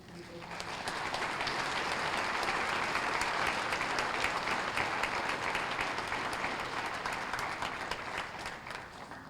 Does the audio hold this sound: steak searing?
no